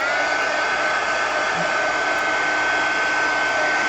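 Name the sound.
heat gun drying tissue paper in art journal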